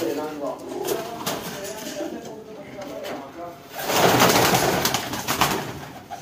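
High-flying pigeons coo softly close by, their low calls rising and swelling in the latter half, with someone talking over them.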